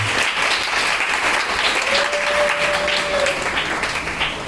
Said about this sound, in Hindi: जोरदार तालियां बजाएं आज के हमारे अतिथि के लिए